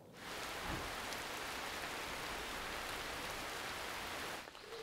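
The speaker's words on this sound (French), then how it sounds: "Il pleut quand même" Steady rain falling outdoors near a village and woods in rural Belgium, a dense continuous hiss that holds evenly throughout, close and fairly loud, with no voices.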